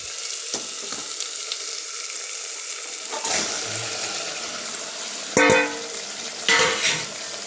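Green chicken kabab pieces frying in a pan and being mixed, a steady sizzle broken by several louder scraping and clattering bursts of stirring, no talk.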